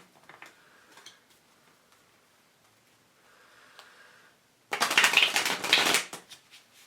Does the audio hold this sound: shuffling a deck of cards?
yes